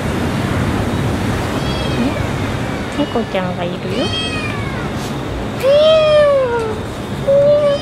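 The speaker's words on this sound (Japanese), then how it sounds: "なんか猫が鳴いてる。" A cat meows several times over steady surf-like background noise at a hot spring resort in Bali. People talk in between, and one louder, drawn-out meow stands out near the end.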